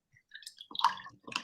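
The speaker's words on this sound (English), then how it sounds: "now rinse out your brush" Paintbrush rinsed in a water container during a watercolor lesson, a few brief wet swishing and clicking splashes close by, quiet and alone.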